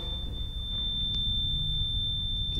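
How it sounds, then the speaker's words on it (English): A small blue ghost-hunting device gives a continuous high-pitched electronic tone that holds steady and fairly loud for the whole moment, over a low room rumble. "What's the blue beeping thing?"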